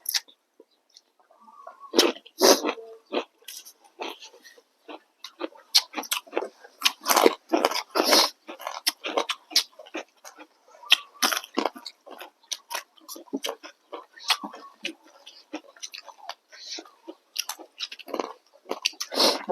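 Crunchy Thai pounded long-bean salad eaten with pork rinds and rice noodles, giving close, loud bites and crisp crunches in irregular bursts throughout, with no talking.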